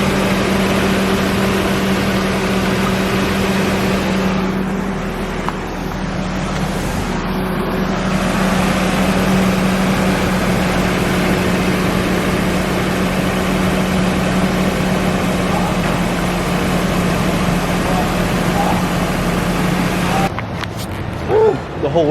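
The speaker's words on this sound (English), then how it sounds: "Basically we're gonna let the car run until there's no more air bubbles." A car engine idles continuously during a heater core flush in a warehouse, letting air bleed from the cooling system; a steady, fairly loud low hum persists throughout before cutting off near the end.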